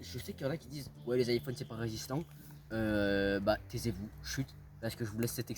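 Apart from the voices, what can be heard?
No everyday noise stands out behind the speech.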